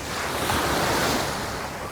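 Sea waves washing onto Boracay beach, a loud, close, continuous surf roar mixed with wind noise on the microphone and no voices.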